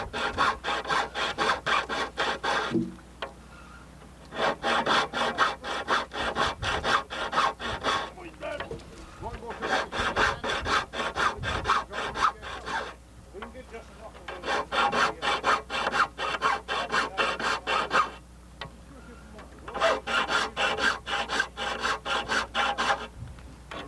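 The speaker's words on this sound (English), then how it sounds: "most times you don't see a filler sitting down filing a saw blade like that" A hand file rasps across the teeth of a saw blade in long runs of quick back-and-forth strokes, with short pauses between runs, close and loud.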